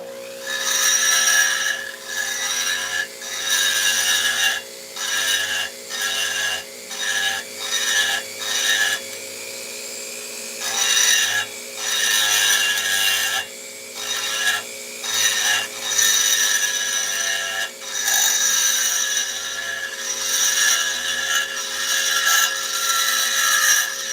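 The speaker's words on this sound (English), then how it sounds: "That chrome plating sure does make a lot of noise when you're grinding on it." Chrome-plated cylinder of a Homelite chainsaw being ground for porting, a steady harsh rasping whine that stops and restarts in short bursts, loud and close with no talk.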